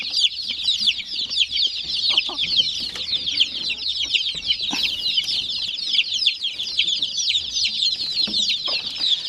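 A dense flock of young chicks peeps continuously, with high overlapping chirps close by and steady throughout, and no voices.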